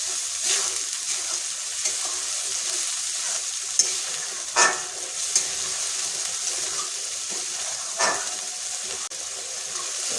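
Spice paste sautéed in a pan for egg korma, a soft continuous sizzle broken by a few scraping stirs and spoon knocks, close and moderately loud, no voices.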